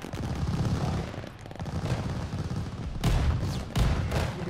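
Gunfire in Call of Duty: Vanguard comes as rapid bursts of automatic shots and sharp cracks, loud and close, with a few heavier blasts near the end.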